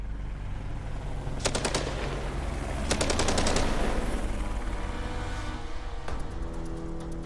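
Gunfire from Iraqi soldiers aimed at a Black Hawk helicopter: loud bursts of rapid automatic fire in short rattling volleys, with a constant heavy rumble of rotor and engine noise underneath.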